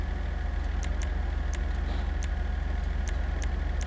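A Karin Everon pickup in GTA Online idles with a steady, low rumbling engine and exhaust drone, close and constant, with faint periodic clicks over the hum.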